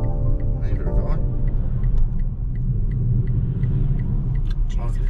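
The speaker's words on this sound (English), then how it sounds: "Bit of road noise." A steady low rumble of road noise fills the cabin of a moving car on the way to a used car auction. A voice briefly sounds over the constant drone.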